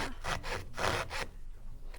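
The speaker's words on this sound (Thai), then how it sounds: "น่าจะต้องใช้เวลาเหมือนกันนะคะในการเลื่อย" A hand saw cuts a wooden board for a rocking horse in four quick, loud rasping back-and-forth strokes, close by, then fades to quieter scraping.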